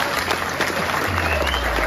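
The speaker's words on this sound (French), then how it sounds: "ils ont besoin vraiment d'un grand applaudissement pour ça" Spectators at a golf competition in Normandy applaud the producers, a short run of brisk clapping with a low hum running underneath.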